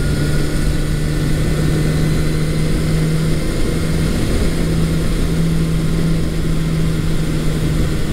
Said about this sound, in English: the engine is running much smoother